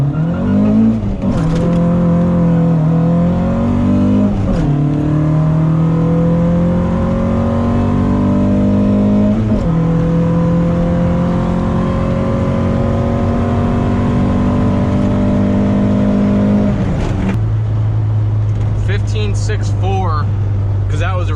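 A car with a built cylinder head makes a quarter-mile drag run, its engine revving up loud and close through several rising gear pulls, each shift dropping the pitch before it climbs again, ending in a steady drone.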